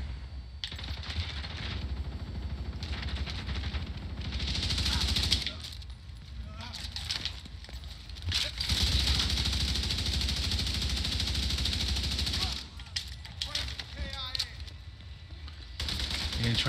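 Rapid automatic gunfire in The Division 2, bursts of fast crackling shots across the stretch with brief pauses, loud and close, mixed with game effects.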